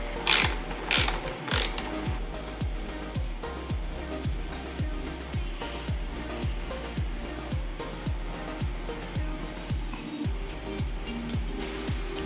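A hand ratchet clicks in a steady, even rhythm while tightening bolts on a Yamaha WR250R motorcycle gas tank, close up and loud, with a brief pause about two thirds through.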